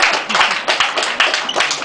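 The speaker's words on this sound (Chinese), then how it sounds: "请大家给他掌声" A crowd at a graduation thank-you banquet claps for students walking in, a dense burst of close hand claps with a faint murmur of voices underneath.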